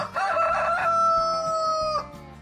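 A rooster crows once on a farm, a loud, close, drawn-out cock-a-doodle-doo over soft background clucking.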